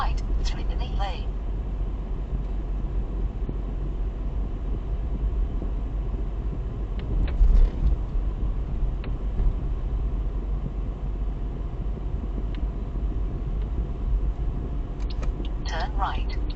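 A car engine hums steadily as a learner vehicle climbs a road test route in Abergavenny, a continuous low rumble with occasional light knocks, while a person talks over it.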